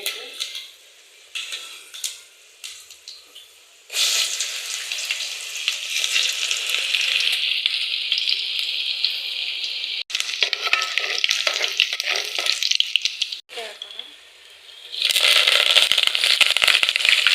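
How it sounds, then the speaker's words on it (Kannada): Chana dal dry-roasting in a pan for uppittu gives a steady crackling sizzle, broken by scraping stirs, with louder bursts midway and at the end. "ಕಡಲೆಬೇಳೆ ಸ್ವಲ್ಪ ಕೆಂಪುಗಾಗ ಹುರಿಬೇಕು."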